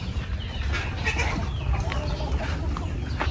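Native chickens at a small farm cluck and call from several spots, soft and scattered over a steady ambient background, with no one talking.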